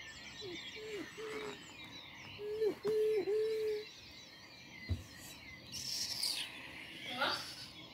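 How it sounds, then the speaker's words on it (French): A small brown bird in a children's story singing, with short rising and falling whistled notes and chirps in a soft outdoor-like ambience, a few brief taps and clicks between phrases. "Petit oiseau brun entama un chant joyeux."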